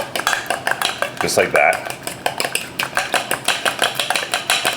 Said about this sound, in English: I'm gonna go in with a little salt and pepper. So this way you got flavor in the egg, and the egg is gonna hold everything together, so go in with a good amount of that, and we're just gonna beat that up,